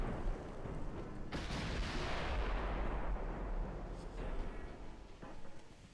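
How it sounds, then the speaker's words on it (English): Heavy naval gunfire from a German battleship's main and secondary batteries in a 1930s naval strategy game, a dense rolling barrage of deep booms and blasts that runs continuously without pause. "our main guns do a lot of damage, but our secondaries absolutely smash these guys"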